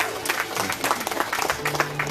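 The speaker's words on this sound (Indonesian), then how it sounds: "Tepuk tangan dulu buat Pak Hamid Usman." Audience clapping at an Indonesian political campaign event, a short burst of fairly close, sharp hand claps from a modest crowd, with a low hum beneath.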